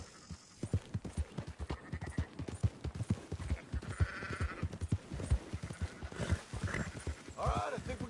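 Sheep bleating amid clip-clopping horse hooves while herding livestock in Red Dead Redemption 2, with steady rhythmic hoofbeats throughout and several bleats rising over them, and voices talking along the way.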